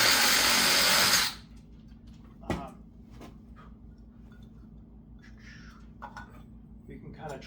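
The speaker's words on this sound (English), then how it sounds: "I just want to drill this cap out so I can sink this thermometer through" A power drill bores through the metal cap of a tin can, a loud grinding burst that cuts off suddenly, then small clinks and handling noises follow close by in a quiet space.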